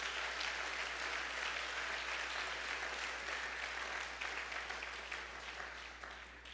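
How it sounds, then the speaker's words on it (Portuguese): A church congregation at a missions conference applauds, a sustained, even roar of many hands clapping that slowly fades toward the end, heard alone over a low steady hum. "pode aplaudir, glória a Deus"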